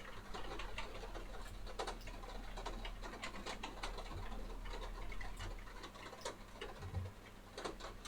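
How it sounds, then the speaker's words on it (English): Many small birds chirp and twitter continuously outdoors in the dark before dawn in mid-February, with bright, overlapping calls over a steady low background hum and no talk. "I can't believe you got angry about the birds chirping."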